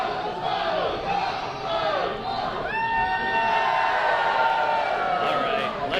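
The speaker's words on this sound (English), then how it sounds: "Crowd goes wild at the London Music Hall for Scotty Too Hottie." A wrestling crowd at the London Music Hall roars and cheers wildly, with loud whoops and sustained shouting rising partway through and staying strong.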